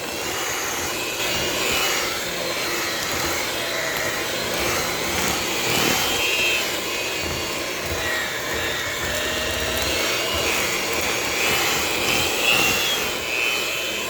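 An electric mixer beats flour for Ghana doughnuts, giving a steady, loud motor whir that runs without a break throughout.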